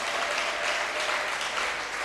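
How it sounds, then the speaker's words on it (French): A church congregation breaks into dense, sustained applause, many hands clapping together loudly and evenly for a couple of seconds. "acclamons pour la gloire de Dieu"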